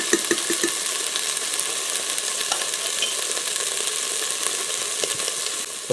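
Bacon grease sizzles and spatters steadily in a stainless steel pot of a COSORI rice cooker on its sauté setting, a close, continuous crackling hiss with small pops and faint stirring scrapes.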